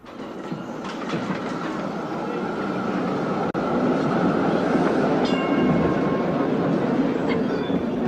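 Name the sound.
tram station, passing tram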